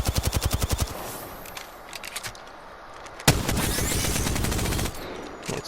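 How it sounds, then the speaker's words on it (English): The Devotion energy light machine gun firing in the video game Apex Legends opens with a rapid burst of about eight evenly spaced shots. A quieter stretch follows, then a loud sustained stream of fire with no talking. "The devotion, in my opinion, has very low recoil. It's really easily controllable, does a lot of damage, has a really high fire rate."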